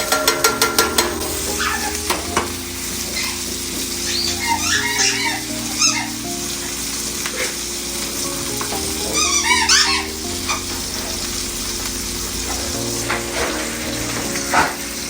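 Butter melting and sizzling in a cast iron pan beside a NY strip steak, a steady close crackle broken by occasional clinks and scraping.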